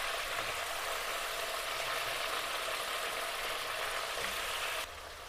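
Vegetables hiss and sizzle steadily in hot oil seasoned with mustard and cumin seeds, a loud, dense frying noise that holds unbroken before dropping slightly near the end.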